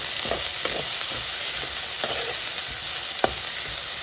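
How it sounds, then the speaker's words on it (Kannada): Tomato and beans tipped into onions frying in hot oil, giving a steady sizzle with a few stirring scrapes and soft clatters, close and continuous with no talk. "ಈಗ ಟೊಮೆಟೊ ಮತ್ತು ಬೀನ್ಸ್ ಎರಡು ಒಟ್ಟಿಗೆ ಹಾಕ್ತಾ ಇದ್ದೀನಿ"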